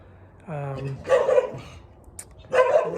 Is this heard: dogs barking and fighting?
yes